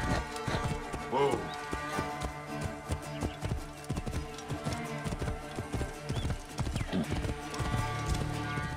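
Horse hooves clip-clop at a gallop in the video game Assassin's Creed Origins, with a whinny partway through and a steady rhythm over game music and other sounds.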